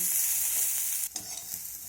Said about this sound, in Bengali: এখন পেঁয়াজটাকেও নেড়েচেড়ে আমি একটু লাল লাল করে ভেজে নেব।